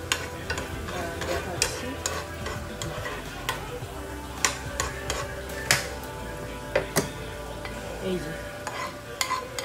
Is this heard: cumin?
yes